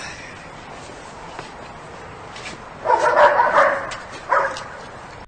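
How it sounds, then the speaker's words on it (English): Several dogs bark in short loud bursts, a cluster of yaps followed by a brief second outburst, over a quiet outdoor background. "it's those same dogs that were barking at Mike Pence earlier."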